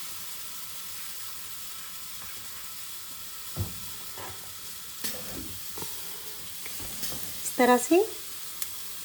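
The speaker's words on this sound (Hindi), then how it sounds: "अब इसके अंदर हम लोग जो है वो बेले हुए सीख कबाब डालेंगे और फ्राई करेंगे।" Rolled seekh kebabs frying in oil for paratha rolls, giving a steady close sizzle and hiss throughout, with a few clattering knocks of a utensil toward the end and a brief voice speaking.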